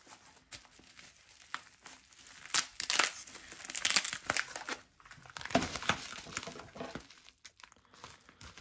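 Plastic packaging from an unboxing of a collection of Anolis products crinkles and crunches as it is handled and cut open with scissors, in irregular bursts of rustling, close to the microphone, with no speech.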